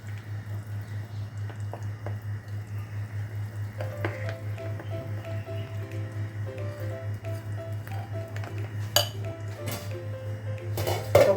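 Dhokla batter is stirred together with chilli paste and oil in a bowl, soft wet squishing and occasional spoon clinks against the vessel over a steady low hum, with a couple of sharper clanks near the end.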